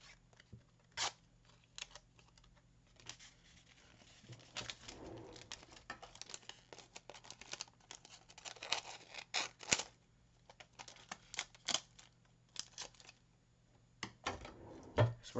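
A Dollar Tree Pokemon card booster pack is torn open with scattered bursts of crinkling and ripping foil. The bursts are fairly faint and close, over a low steady hum.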